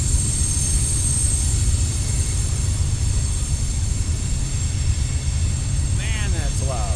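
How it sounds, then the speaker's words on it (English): Norfolk Southern freight train with gondolas climbs a hill in a steady, loud low rumble and drone that fills the whole stretch, with a brief squealing whine near the end. "these trains ain't quiet"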